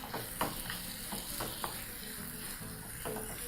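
Sausages and onions fry in a pan for classic British bangers, a steady close sizzle with a few stirring scrapes and soft clacks, no one speaking.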